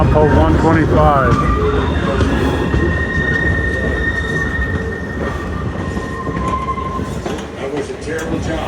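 A train rolls along the rails near milepost 125 with loud, close wheel noise and long high-pitched squeals from the wheels, plus intermittent rhythmic clatter, while someone talks over it throughout.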